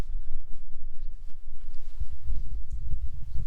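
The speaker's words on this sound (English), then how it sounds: "it's still a little too windy" Low, blustery wind buffets the microphone in the Cherokee National Forest, rumbling and gusting unevenly and growing heavier toward the end.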